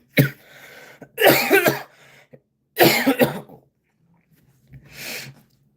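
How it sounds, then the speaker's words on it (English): One person coughs in several harsh, throaty bursts, close and loud, with brief gaps between them and a softer final cough. "That was a cough"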